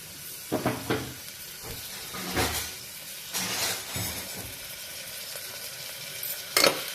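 Chopped onions dropped into hot oil for a dondakaya curry, giving a close, moderate sizzle with several sharp bursts and stirring clatter.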